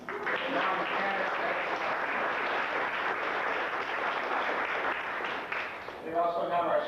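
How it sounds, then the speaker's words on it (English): Audience applause for Norm Stanton and his wife's 40th wedding anniversary at a 1994 Ed Strang Day gathering, a sustained wash of clapping with talk mixed in. "I think I'd like another round of applause as they're celebrating their 40th wedding anniversary tomorrow"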